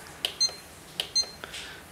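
An iHome iH8 iPod speaker dock gives its alarm beep, sharp high electronic chirps in two paired bursts with a small click after, close and alone.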